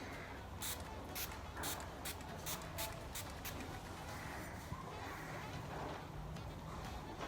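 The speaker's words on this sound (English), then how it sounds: "So let's put on the setting spray." A few quick spritzes of a makeup setting spray bottle hiss in short bursts over a steady low background hum, fairly close and soft.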